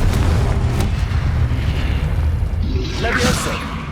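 Confringo fire blast spell cast in the Hogwarts Legacy video game, a loud booming burst that rolls into a sustained rumble, followed by a brighter crackling whoosh near the end, with game audio underneath.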